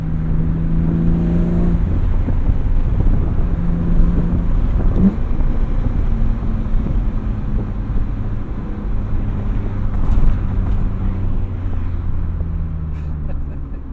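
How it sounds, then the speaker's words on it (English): A BMW M3 engine revs hard toward the red line, a loud sustained engine drone with rising and falling harmonic tones heard from inside the car over steady wind noise. "I actually now remember how throttled these engines are up at high revs."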